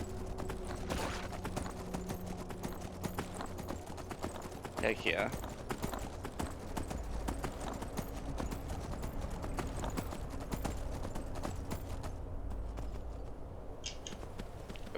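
Rapid, rhythmic horse hoofbeats clip-clop steadily throughout in Skyrim, with a brief voice speaking partway through and a faint whinny-like sound.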